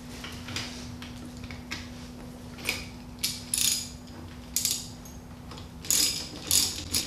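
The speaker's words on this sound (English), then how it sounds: "got my spring compression tool. I'm gonna go ahead and start hooking this up so we can compress it." Ratcheting spring compressor tightening down a rear strut coil spring from a Pontiac Fiero, sounding as irregular bursts of sharp metallic clicks between brief pauses, close and fairly clear over a low steady hum.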